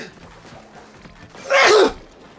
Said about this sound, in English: Was that you sneezing?